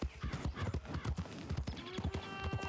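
Horse hooves clip-clopping in the video game Red Dead Redemption 2, a quick steady trotting rhythm of close, clear hoofbeats on hard ground running throughout, with faint background sounds.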